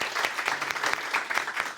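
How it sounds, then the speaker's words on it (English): Conference audience at a startup event giving a round of applause, brief moderate clapping heard from a distance, steady and unbroken. "let's get one more round of applause for Dave and everyone involved"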